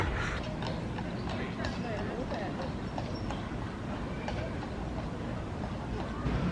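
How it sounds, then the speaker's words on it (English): Horses clip-clop at Disney's Animal Kingdom, a steady patter of hooves blended into a loud, busy crowd murmur and outdoor park bustle, with people talking nearby throughout. "there's the horses again."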